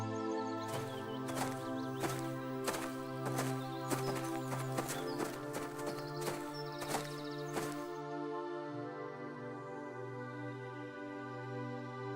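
A donkey's hooves clip-clop in a steady walking rhythm for about eight seconds, fairly close, over a sustained musical backdrop that carries on after the steps stop.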